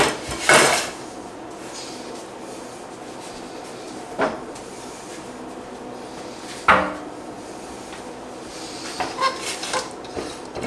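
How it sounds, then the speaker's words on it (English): A stainless steel pan holding roasted turkey bones gets deglazed, with a few sharp metallic clanks and scrapes spaced apart over a quiet background, ending in a cluster of small clinks. "Deglazing it will get all those little bits off the bottom."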